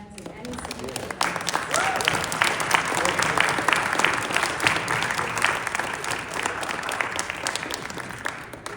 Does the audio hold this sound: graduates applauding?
yes